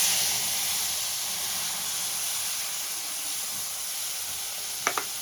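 Soaked basic spices go into hot oil that already holds a whole dried red chilli, making a loud, continuous close sizzle and hiss for brinjal bhorta, ending in two quick clinks of a utensil.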